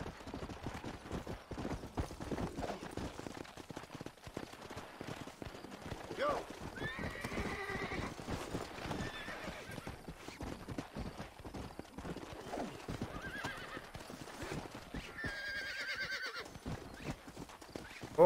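Horse hooves clip-clop in a steady rhythm in Red Dead Redemption, with two clear neighs breaking through around the middle and near the end, while someone talks casually over the game sounds.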